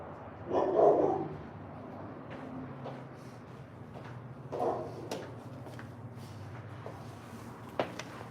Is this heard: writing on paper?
no